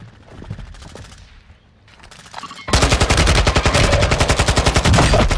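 Sustained rapid automatic gunfire from enemies in a video game erupts loudly after a quieter stretch of scattered sounds, hammering on in a dense, continuous burst to the end.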